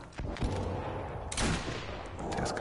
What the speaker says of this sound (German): Jetzt habe ich einen von den Nah-Zombies mit dem Scharfschützengewehr abgeballert.